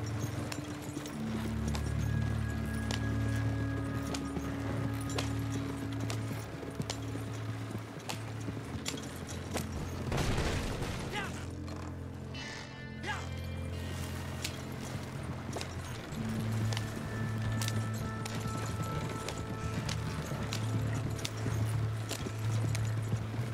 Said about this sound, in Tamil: குதிரை வண்டி எடுத்துட்டேன்.